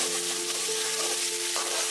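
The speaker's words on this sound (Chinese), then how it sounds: "锅里面来一块猪油，下姜蒜米爆香" Ginger and garlic sizzle in hot lard in a wok, a steady close crackling fry with faint stirring, continuous and alone.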